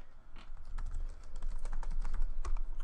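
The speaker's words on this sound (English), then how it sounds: "Then you enter your name" Typing on a computer keyboard, a run of quick light key clicks in an uneven rhythm, close and moderately quiet over a low background hum.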